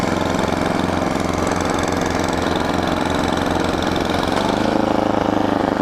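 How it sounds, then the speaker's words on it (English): A snowblower engine runs steadily at close range, a loud, continuous mechanical drone with a constant rumbling throb and no pauses. "See how the snowblower does as a hedge trimmer?"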